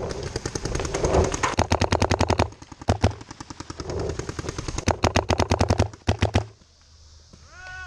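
Paintball guns fire in rapid bursts of sharp cracks during an outdoor paintball game, loud and close, with several volleys separated by short pauses before the shooting stops.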